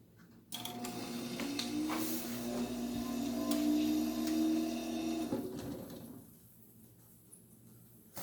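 A vintage Amana dehumidifier powers on with a click, then settles into a low, steady mechanical hum and rattle that holds for several seconds before easing off, heard close up.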